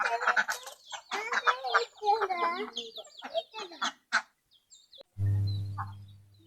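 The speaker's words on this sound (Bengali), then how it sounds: "আর এর নিচে হচ্ছে আমার এই দেশি মুরগিগুলি।" Native desi chickens cluck and squawk in a run of rhythmic, repeated calls at close range, followed near the end by a short low steady hum.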